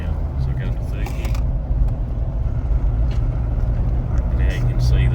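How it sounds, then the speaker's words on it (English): A Mitsubishi Challenger revs as it accelerates in third gear, its engine drone steady and loud with the pitch shifting, while a voice talks over it from inside the cabin. "And then as I accelerate, listen for the change."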